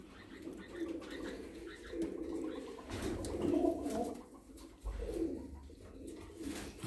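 Lahore pigeons coo nearby in low, repeated rolling calls, several overlapping, over quiet background noise.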